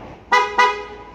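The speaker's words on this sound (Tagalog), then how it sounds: "Sige, loud horn." Two short, loud dual-contact horn blasts from a Yamaha NMAX V2 scooter in quick succession, bright and buzzy, each lasting a fraction of a second, close by.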